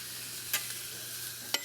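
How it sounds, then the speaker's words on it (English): A steady, soft sizzle of bacon burger patties frying in a hot grill pan, with a couple of brief clinks of utensils against the pan. "Listen to the sizzle."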